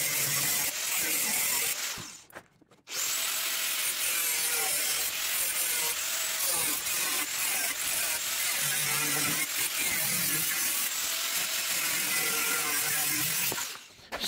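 Metal pieces for a handmade custom motorcycle frame cut with a chop saw or cut-off disc, a harsh continuous grinding roar running almost the whole time, with one brief pause near the start.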